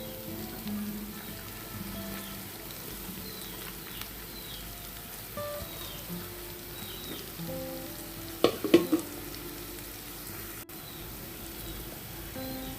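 Finely chopped onion hitting hot oil in a pan while cooking small kanchi fish, giving a steady low sizzle throughout with a brief louder crackling burst near the end, no voices.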